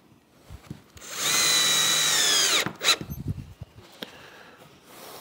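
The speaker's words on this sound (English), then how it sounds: "I want to get a couple of screws in here to make sure that it doesn't want to shift." A power drill drives screws into the wooden boards of a barn-style sliding door, whining loudly and steadily for over a second before winding down, then a few short knocks and handling clatter follow.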